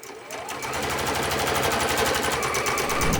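A sewing machine quilts straight lines across fabric for a fabric bin, its fast, even stitching rattle starting up and running loud and close without pause.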